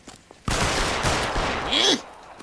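Gunfire from the L.A. Noire video game: a dense, loud burst of overlapping shots rolls on for about a second and a half, then cuts off and leaves near-silence.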